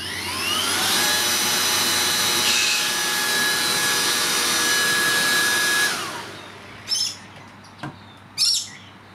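Makita 18V cordless power head fitted with a blower attachment, run at its highest setting: a steady, loud whining roar that holds for about six seconds, then cuts off and spins down, followed by a few brief clunks.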